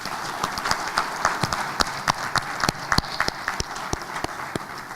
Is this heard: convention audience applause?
yes